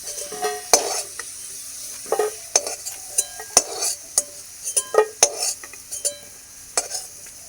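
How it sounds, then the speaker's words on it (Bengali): Food frying in a kadai for a potato and paneer dish, a steady sizzle broken by frequent sharp scrapes and clinks of a spatula stirring against the metal pan, close and fairly loud with no talking. "লাল লাল করে ভেজে নিয়েছি, আর তুলে নিলাম।"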